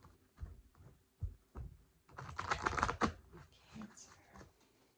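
Tarot cards being shuffled, a few soft taps and riffles followed by a louder burst of rapid fluttering card noise, then quieter handling.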